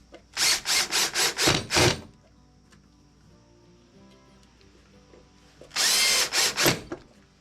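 A power tool cuts a piece of masonite for a shop-made fuel dolly in two loud bursts of rapid, pulsing whine at close range, separated by a quieter stretch of low shop hum.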